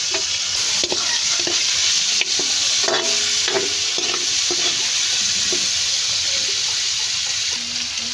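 Ingredients for Ilocano pakbet, a Filipino vegetable stew, frying in a pan, with a steady loud sizzle and scattered scraping knocks of a spoon stirring throughout, close and without talk.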